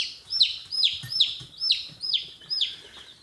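A young chicken chirps loudly and close, giving a steady series of about six high, descending peeps spaced roughly half a second apart, alone with no voices.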